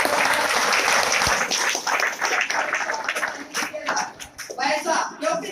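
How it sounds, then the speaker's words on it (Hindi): Seminar audience breaking into loud, dense applause, a steady wash of many hands clapping that surges and dips slightly, with voices mixed in underneath. "एक बार ताली बजाइए"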